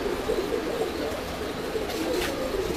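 Red-eyed Pakistani pigeons coo steadily at close range, a low continuous murmur of overlapping calls with no other sounds.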